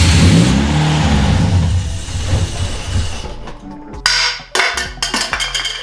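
A Toyota Yaris race car engine with a poorly mounted MAF sensor runs rough, loud and close: a steady mechanical drone for a few seconds, then uneven, stumbling bursts and sputters with no talking.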